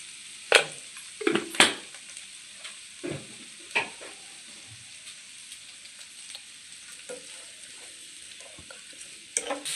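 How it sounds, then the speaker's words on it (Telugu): Coriander powder fries in a pan while a spoon stirs it, giving a soft continuous sizzle broken by several sharp scraping stirs early on, then gentler occasional scrapes toward the end. "ధనియాల పొడి ఫ్రై అయ్యేటప్పుడు ధనియాల పొడి ఇందులో ఫ్రై అవుతున్నాయి"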